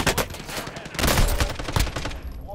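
Rapid bursts of automatic gunfire in Call of Duty Modern Warfare, loud and close, several overlapping volleys packed into a couple of seconds.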